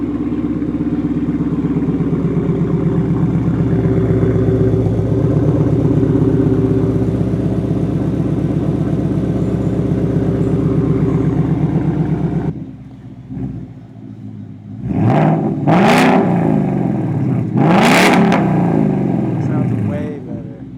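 A deep, rumbling 2021 Ford Mustang GT V8 with a Steeda X-pipe idles loudly and steadily, then after a pause the engine barks through two sharp revs that rise and fall quickly.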